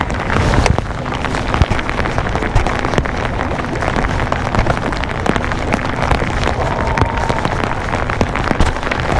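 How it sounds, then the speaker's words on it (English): Steady rain pattering on the surface of a lake while out bass fishing in the grass at Lake Guntersville, a dense continuous hiss of drops with occasional louder splats, close and loud throughout with no talking. "The rain's getting a little harder now."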